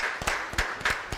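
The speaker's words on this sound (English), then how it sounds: "Round of applause for yourselves, guys." Studio audience applause at a sports candidate debate, a few distinct claps repeating in an uneven rhythm, fairly close and moderately loud with no voices over them.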